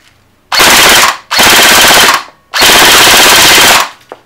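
An Elite Force G36 airsoft rifle by ARES with electronic recoil fires full auto in three loud, close bursts, each a dense rattling stream separated by brief pauses.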